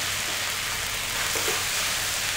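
About three tablespoons of grated onions sauté in a pan for a chicken korma, a steady close sizzle hissing without a break, with a faint stir partway through and no voices.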